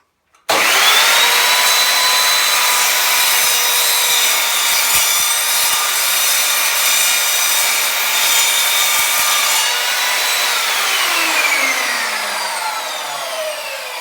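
An Evolution Rage3-S sliding compound mitre saw slices through aluminium in one long, loud, continuous cut lasting about thirteen seconds, with a whining blade tone that fades as the cut finishes.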